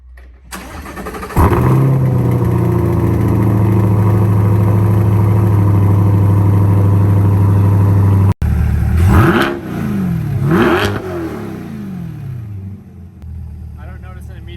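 A C8 Corvette fitted with a performance intake cranks and fires, settling into a loud, steady idle before a couple of sharp revs rise and fall near the end, with a brief cut midway.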